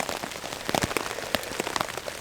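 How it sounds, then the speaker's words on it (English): Heavy rain at night patters steadily on a surface nearby, with a dense wash of drops and scattered sharper taps close at hand. "the rain is coming down"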